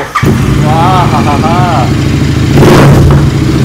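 A Royal Enfield motorcycle engine idles loudly and steadily close by, swelling into a stronger rev near the end, while people talk over it.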